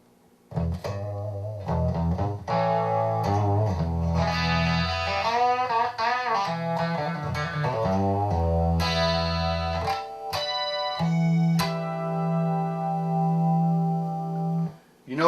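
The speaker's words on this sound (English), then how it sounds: "You notice there's a little bit of dirt or a little bit of grit in the signal. That's because I'm using the semi-clean" Electric guitar played through a Rockman Sustainor on its semi-clean preset, ringing chords and single notes with a slight gritty edge, steady and close with brief pauses between phrases.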